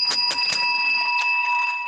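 A bright electronic bell chimes several times in quick succession, then one more strike, each ring sustaining steady metallic tones that hang on and fade out, loud and clear with no talking.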